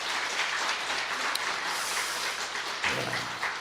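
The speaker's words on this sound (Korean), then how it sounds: "우리 그 귀한 아이에게 박수 한번 좀 보내주시기 바랍니다." A church congregation applauds steadily, a dense wash of clapping from many hands that holds evenly throughout without speech.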